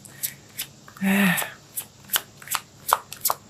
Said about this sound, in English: let's pull out a physical card for you here